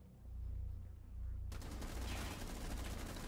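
Rapid gunfire in Rainbow Six Siege: a dense burst of automatic shots that sharply intensifies partway through, loud and sustained with no talking over it.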